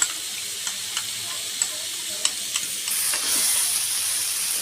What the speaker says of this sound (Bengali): কর্নফ্লাওয়ারটা দিয়ে ভালো করে আমি মিশিয়ে নিব।